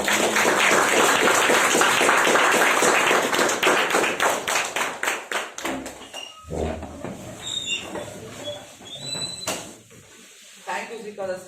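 Audience applause for a speaker at a speakers' meet, a dense burst of clapping for about five seconds that thins into scattered claps, with voices and clinking sounds continuing afterward.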